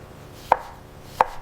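Two sharp knife chops on a cutting board while yam or plantain is cut by hand for a Nigerian yam and plantain dish, spaced about 0.7 seconds apart, close and distinct against a quiet kitchen background.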